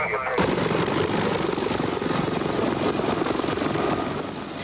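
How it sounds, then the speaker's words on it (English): Navy helicopters landing in Watsonville after the 1989 earthquake, rotor and engine noise loud and steady throughout, close by, with broadband thumping wash that eases slightly at the end. "Okay, Navy helicopters inbound."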